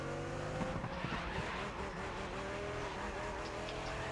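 A Dodge Viper race car in GRID Legends roars at steady high revs, its engine note dense and continuous with brief tire squeal and skidding mixed in, loud and close without any talk.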